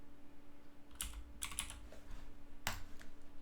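A few scattered keypresses on a computer keyboard, soft and nearby, coming as short isolated clicks and small clusters separated by quiet gaps.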